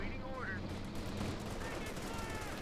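Light machine gun fire in Company of Heroes 2, paratroopers shredding Grenadiers in a Wehrmacht versus US Forces match, a dense continuous crackle of gunfire over battle ambience for nearly three seconds, faint voice-like tones in the mix.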